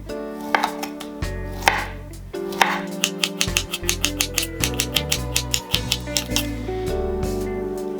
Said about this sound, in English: First we're going to peel the sujuk and slice it finely.